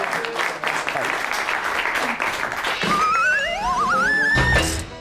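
An audience at a televised Eid mushaira claps to welcome a guest poet, applause running throughout while a high wavering whistle-like tone rises over it in the latter half, ending with a heavy thump.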